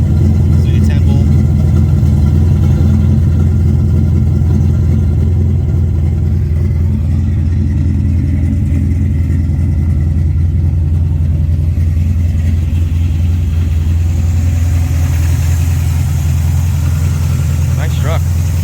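A deep 383 V8 stroker engine in a 1970 Chevrolet C10 pickup idles and rumbles steadily nearby, its throaty low drone continuous throughout with slight swells.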